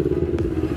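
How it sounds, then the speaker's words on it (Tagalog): A motorcycle engine rumbles steadily at close range, with a brief clattering burst midway through the short pass, on a narrow path too tight for cars. "may lumabas na motor doon"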